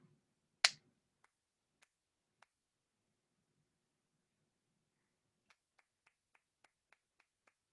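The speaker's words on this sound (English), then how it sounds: "we can't clap the pattern that sounds like this" A single sharp clap or snap, then a sparse series of soft, evenly spaced clicks that speed into a quick rhythmic run near the end, with near-silence between them during a music lesson on clapping rhythm patterns.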